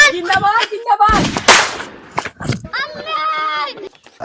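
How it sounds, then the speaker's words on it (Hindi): A firecracker bursts loudly and sharply in the middle of a comic village-election scene, with a short crackling tail. Excited voices talk and shout before and after it. "हम तो चुच्ची वाला पटाखा लगावत रहे"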